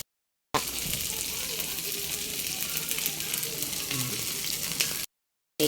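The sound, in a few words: frying fried rice in a pan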